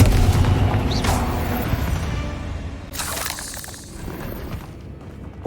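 Casting the Confringo fire spell in Hogwarts Legacy sets off a deep booming explosion, loud and close, followed by crackling bursts and a second sharp blast as the rumble fades.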